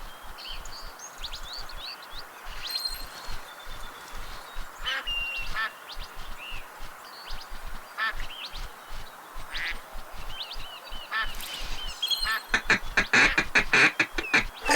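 Ducks in the Duck Dynasty video game quack repeatedly over a faint outdoor hiss, with scattered single calls early on and a rapid burst of loud, close quacking near the end.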